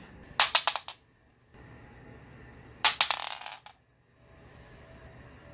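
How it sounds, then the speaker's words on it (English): Dice, including a d20, tossed and clattering in two quick bursts of sharp rattling clicks about two seconds apart, each settling within a second, close and clear over a quiet room. "let's just get into the rolling of the dice."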